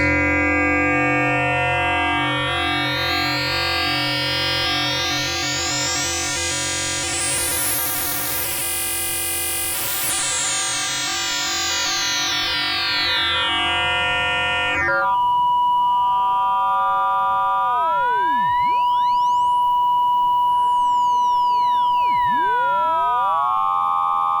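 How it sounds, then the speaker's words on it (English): FM synthesizer tones from a DIY busking synth, a 1 kHz carrier modulated by a 200 Hz oscillator, sweep through dense buzzing harmonics that rise and fall, then thin to a pure tone with gliding chirps, loud and continuous with no voices. "have a 1 kHz oscillator acting as a carrier and a 200 Hz oscillator acting as a modulator"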